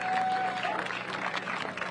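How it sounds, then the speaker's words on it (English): An audience applauds at a cross country championship awards ceremony in a brief steady burst of clapping, with a whistle-like tone early and some crowd noise mixed in. "Let's give them all a nice round of applause."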